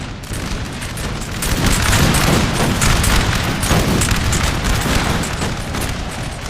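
Point-blank musket volleys in the Napoleon: Total War video game, a dense, continuous roar of massed gunfire and booms, loud and close, swelling after the first second and holding steady.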